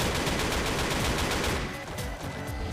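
A turret in the Roblox game SCP Daybreak fires a rapid, dense automatic burst of gunshots that runs loud and steady, then thins slightly near the end, with no voices over it.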